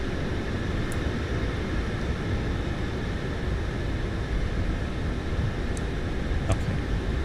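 iFly 737 Max 8 engines at takeoff thrust in Flight Simulator 2024: a steady, loud, dense roar holds unbroken throughout, with a few faint clicks on top.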